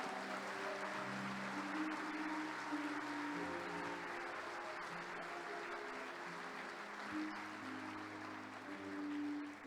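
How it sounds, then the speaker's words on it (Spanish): A church congregation applauds in a sustained, fairly soft wave, with held tones from music or voices sounding beneath the clapping and continuing to the end. "Dele aplauso al Señor que vive y reina para siempre"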